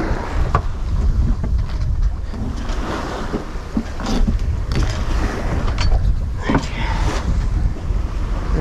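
A sailboat glides on the ocean with its engine off, wind buffeting the microphone and water rushing and splashing along the hull, a steady loud whoosh without any engine noise.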